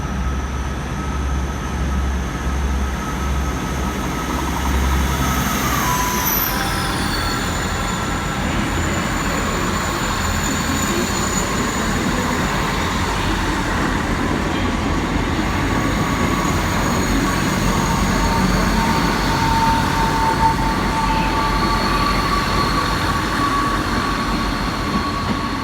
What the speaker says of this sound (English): Forgot about the South Western Railway train,